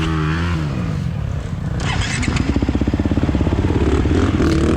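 A 2023 KTM 350 XC-F dirt bike on a muddy hare scramble hill climb bogs and stalls. The engine then restarts and revs in rapid, loud, close pulses.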